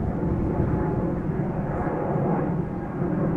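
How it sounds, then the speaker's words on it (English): A Boeing 777 freighter climbing away after takeoff at Amsterdam Schiphol, a steady low jet rumble and roar heard from a distance. "so I can also show you the airplane that has just taken off"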